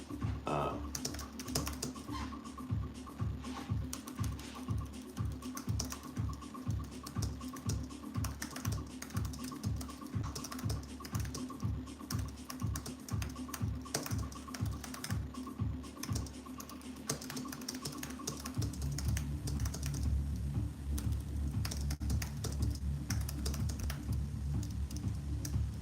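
Rapid typing on a computer keyboard produces steady, close clicking taps that run without pause for most of the stretch, then give way to a low, even hum near the end.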